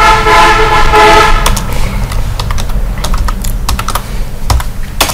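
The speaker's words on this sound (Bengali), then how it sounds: "আমরা এখানে ইউনিকোড বাংলা টেক্সটটা লিখে" Bangla text being typed on a computer keyboard: bursts of quick, close key clicks over steady background hum, with a brief tonal honk-like sound at the start.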